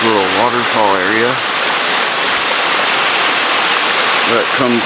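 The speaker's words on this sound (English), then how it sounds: "We have this little waterfall area" A small waterfall of runoff spilling straight down across a hiking trail near Grove Creek Falls gives a steady, close rushing wash, with a voice speaking over it at the start and again near the end.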